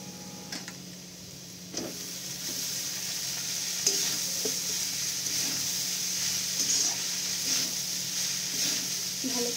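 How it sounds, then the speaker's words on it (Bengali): Drained flattened rice (chire) is stirred with vegetables in a sizzling pan, giving a steady soft frying hiss broken by occasional scraping clinks of the spatula. "ভালো করে মিক্স করে নেবো সবজিগুলোর সাথে।"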